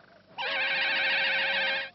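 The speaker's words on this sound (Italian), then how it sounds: "Quello è un fischio d'allarme!" A loud, shrill alarm whistle bursts in after a brief quiet moment and holds steady, warbling slightly, for well over a second before cutting off.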